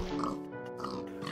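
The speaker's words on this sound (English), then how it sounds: "So, gonna kill this pig here for a sec." A pig in the Minecraft video game oinks in short grunting bursts, clear and close, spread across a brief stretch with steady game background beneath.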